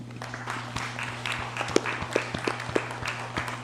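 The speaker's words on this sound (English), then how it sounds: "Let's all give him a round of applause." Scattered applause at a legislative session, a modest group clapping in uneven bursts over a steady electrical hum, fairly faint and thin rather than a full ovation.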